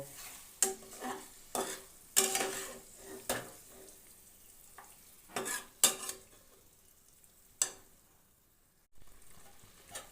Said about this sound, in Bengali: এবার মশলার সাথে ভালোভাবে মিশিয়ে নেব।